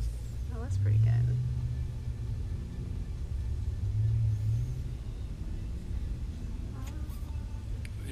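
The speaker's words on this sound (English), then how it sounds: "There's a car behind you," A car rolls along a road during a driving lesson, its low engine rumble steady throughout and swelling briefly a couple of times, with occasional faint voices in the background.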